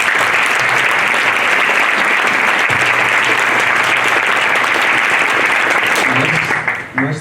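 An audience at a candidates' debate in Seltjarnarnes, Iceland, claps loudly for about seven seconds in a full, steady burst that thins out and fades at the end.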